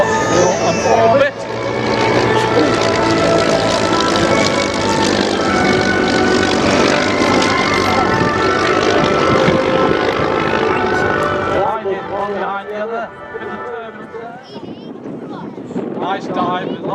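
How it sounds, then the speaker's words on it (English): Propeller aerobatic plane diving under heavy throttle at the Welshpool air show 2014: a loud, sustained engine drone with wind buffeting that holds steady, then eases and wavers as the aircraft pulls up. "Nice dive with a lot of throttle on, and then pull up."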